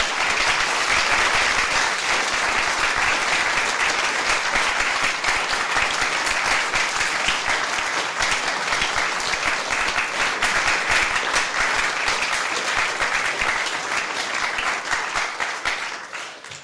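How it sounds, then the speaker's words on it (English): Sustained audience applause at a university debate on morality and God, dense steady clapping from a large hall crowd for the speakers, holding at even loudness for about sixteen seconds before tapering off at the end. "Would you please put your hands together while I give them some goodies?"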